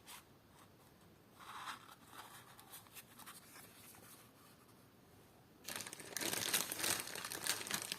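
A small plastic packet crinkles and rustles while vintage jewellery is unpacked, soft handling noises at first, then a louder burst of crinkling near the end.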